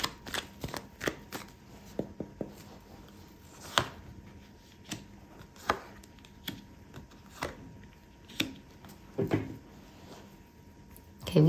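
Tarot cards being shuffled by hand in a close, quiet room, with irregular soft riffles and slaps coming in short bursts separated by brief pauses.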